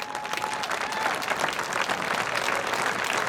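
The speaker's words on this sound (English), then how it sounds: "a round of applause for Coach Culicerto and Coach Pete Culicerto" Sustained applause from a crowd honoring Coach Pete Culicerto of the Flying Eagles, a dense, steady wash of many hands clapping at even loudness throughout, with no voices over it.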